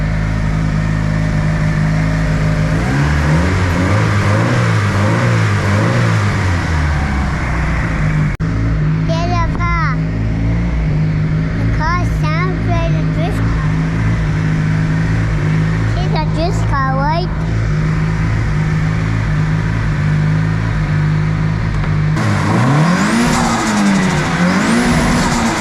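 A turbocharged SR86 engine revs loudly and continuously on a test drive, with rising and falling engine pitch, close and sustained, while people talk over it.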